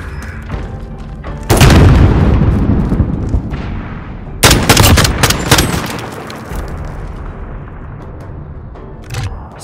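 A bomb detonation in a Modern Warfare Search and Destroy match: a loud, close blast erupts with a long rumbling tail, then a second heavy burst of explosive cracks follows a few seconds later, fading into low rumble with scattered distant pops.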